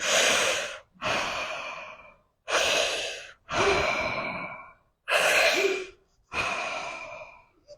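Deep, slow breathing during a head tension release exercise, six long breaths in steady rhythm, each a loud, close, airy rush with brief silent gaps between, heard alone with no talk.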